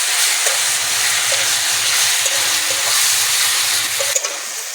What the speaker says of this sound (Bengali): গুঁড়ো মশলাটা ভালো করে ভেজে নেব।